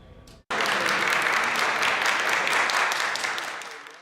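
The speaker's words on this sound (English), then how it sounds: "Today, Perry entered council to applause from supporters" Supporters inside a city council chamber burst into applause as a councilman enters, starting abruptly after a brief moment of quieter sound and continuing as a dense, steady clapping that slowly fades.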